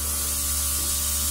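Luminess airbrush spraying makeup lightly from about eight inches away, a continuous soft hiss over a low hum, steady and close for the whole moment.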